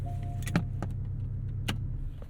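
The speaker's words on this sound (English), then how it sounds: "you hold the top button to put it up, and it also puts the windows up" The power soft top and windows of a 2024 Porsche 718 Boxster Style Edition close together, a quiet steady motor whir inside the car punctuated by a few sharp clicks and latching knocks.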